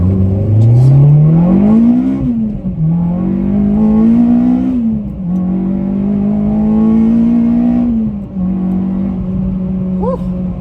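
A K24-swapped Honda Civic Type R on Yokohama AD08RS tyres accelerates hard from the cabin, the engine note rising steeply then holding high across several gear changes, loud and close with little else over it.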